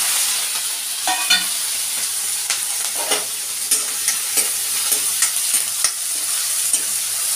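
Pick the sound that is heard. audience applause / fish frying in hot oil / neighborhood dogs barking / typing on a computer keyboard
fish frying in hot oil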